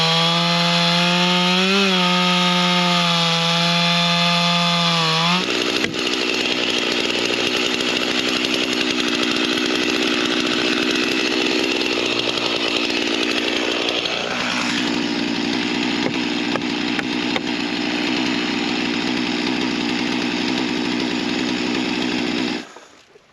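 Chainsaw felling a good-sized poplar tree: the engine revs up loudly from idle, then bogs into a steady, dense cutting drone through the trunk for most of the stretch before stopping abruptly near the end, with no talk.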